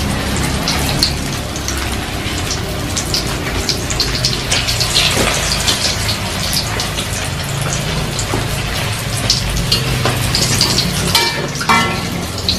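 Snacks frying in hot oil in a village kitchen, a steady loud sizzle and bubbling that runs throughout with small crackles and pops scattered over it.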